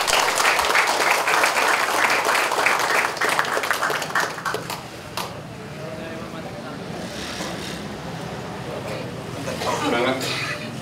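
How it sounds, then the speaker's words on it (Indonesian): A crowd claps loudly to welcome a district military commander at a street-vendor reorganization opening in Bandung, the applause dense for about four seconds before fading into murmuring talk and traffic noise. "Tepuk tangan untuk Pak Dandim."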